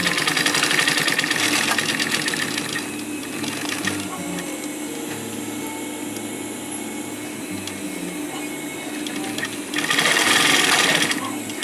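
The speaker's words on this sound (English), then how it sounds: "So something like this goes under the sewing foot. and we start sewing." A sewing machine stitches webbing onto a zipper pouch, its fast, even mechanical whir running close and steady throughout, louder in brief bursts at the start and near the end, with a voice speaking over it.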